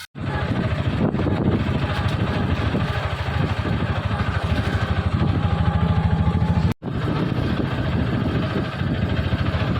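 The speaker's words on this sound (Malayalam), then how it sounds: "അവിടെ നിലം ഒരുക്കുന്നുണ്ട് ട്രാക്ടർ" A tractor preparing a field runs with a steady, chugging engine idling loudly and continuously, a low throbbing drone that cuts out briefly near the end before resuming.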